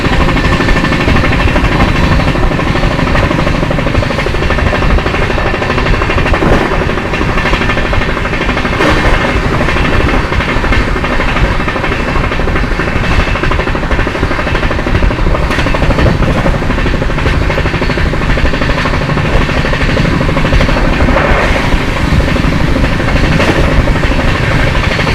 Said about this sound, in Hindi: ट्रेन जो है अपनी पानागढ़ अराइव कर रही है, पानागढ़ रेलवे स्टेशन पे।